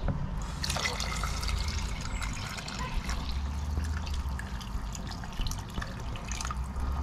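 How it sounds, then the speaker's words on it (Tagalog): Hot tap water pours steadily into a pot of chicken arroz caldo, a continuous liquid splashing and trickling that runs the whole time without any voices. "Mag-a-add na naman tayo uli ng tubig."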